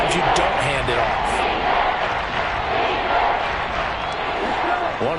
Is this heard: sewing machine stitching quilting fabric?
no